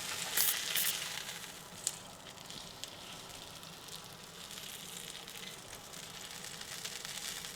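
A thick tri tip steak sears in a hot pan with a steady, fairly quiet sizzle and crackle. A few sharp pops and ticks break through, and no one speaks.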